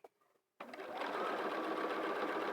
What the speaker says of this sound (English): So now all I do as I sew is keep my eye on that foot and just sew along